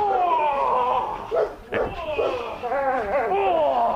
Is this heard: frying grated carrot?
no